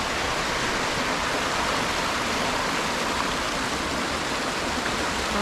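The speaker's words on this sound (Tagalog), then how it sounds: "So the water fall, and the water came from here, from the mountains." Múlafossur waterfall in the Faroe Islands, fed from the mountains, giving a steady, dense roar of falling water with no breaks, loud and continuous throughout.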